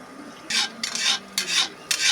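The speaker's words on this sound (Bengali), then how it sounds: "এখন হালকা গরম তেলে ভেজে নিতে হবে।" Homemade sweets being fried in warm oil, heard as four short bursts of scraping and stirring against the pan, each lasting about a quarter to half a second, with quiet gaps between and no voices.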